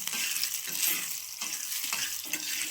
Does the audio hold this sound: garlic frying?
yes